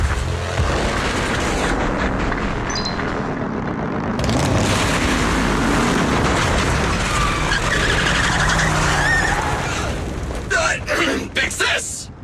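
A car roars and skids with screeching tires and rumbling engine noise in the game Zenless Zone Zero, a continuous loud rush ending in a few sharp crashes.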